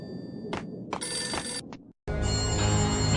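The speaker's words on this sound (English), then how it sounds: "A beaten-up phone in the entrance hall was ringing." An old phone rings in the entrance hall in the video game Max Payne Mobile, giving bright electronic rings in short bursts, then a brief gap and a louder, fuller, sustained ring, close and with no talk over it.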